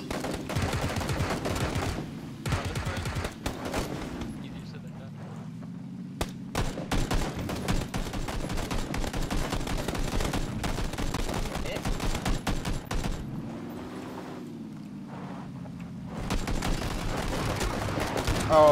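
Rapid bursts of gunfire in the video game PUBG crackle almost continuously, loud and dense, mixed with game music and voices talking over the action.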